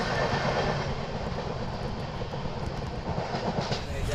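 An Indian Railways express train races along at high speed, a loud continuous rumble with rapid clickety-clack of wheels over the rails, heard from on board with steady roaring noise throughout.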